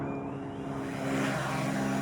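A small consumer drone lifts off on auto takeoff, its motors giving a steady, fairly close whirring hum whose tonal buzz swells slightly about halfway through and then holds, with no talking.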